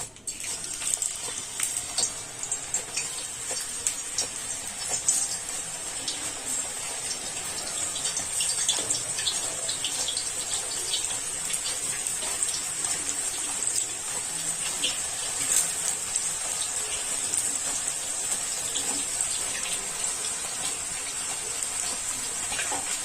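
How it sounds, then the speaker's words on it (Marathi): Banana slices grated straight into hot oil for homemade banana chips, giving a steady, loud frying sizzle and crackle that continues evenly throughout with no talking. "ह्याच्यावर डायरेक्ट आपल्याला तेलामध्ये हे खिसायचे"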